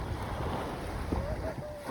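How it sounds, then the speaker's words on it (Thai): Ocean waves wash onto a Thai beach at sunset, a steady broadband rush with wind buffeting the microphone and a faint distant tonal sound. "มาฟังเสียงคลื่น มาฟังเสียงทะเล"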